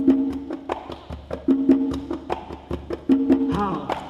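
A conga plays a steady tumbao pattern, with repeated crisp slaps and open tones in a looping rhythm, close and loud, with no voices.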